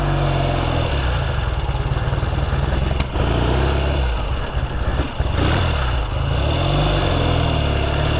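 A 1968 Triumph TR6C motorcycle engine with no choke, warming up: a loud, close, steady throbbing idle with rhythmic firing pulses and brief blips of revving partway through.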